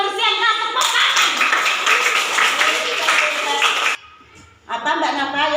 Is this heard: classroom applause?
yes